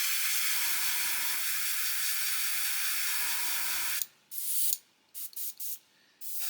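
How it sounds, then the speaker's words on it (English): A steady airbrush hiss runs for several seconds while being cleared, then breaks into short sputtering bursts of spray with brief gaps between them. "we'll just clear the airbrush"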